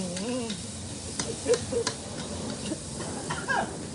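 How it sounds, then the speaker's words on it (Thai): Thai red chili paste stir-frying in a pan, with a steady sizzle under scraping stirs and a few clinks, while a voice is briefly heard in the background. "ต้องผัดให้หอม"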